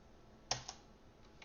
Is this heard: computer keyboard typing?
yes